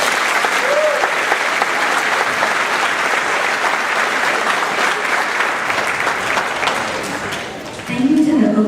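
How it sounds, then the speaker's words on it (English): Sustained audience applause at a middle school spring band concert, a dense, even wash of clapping from a large crowd that holds steady for several seconds before tailing off as a voice starts at the end. "Please give them a big round of applause."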